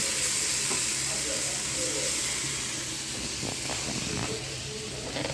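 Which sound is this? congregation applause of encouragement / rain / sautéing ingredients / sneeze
sautéing ingredients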